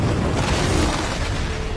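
A loud, dense explosion boom from an action film about a beekeeper who becomes a wanted man, a sustained heavy rumble filling the whole short stretch without letting up.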